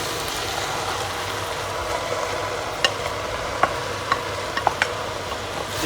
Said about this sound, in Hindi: इसको मैं मिक्स करूँगा थोड़ा